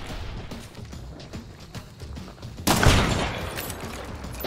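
A sudden loud burst of explosive-ammo gunfire in Hunt: Showdown erupts midway through a stretch of quieter in-game ambience, followed by a rumbling, crackling tail.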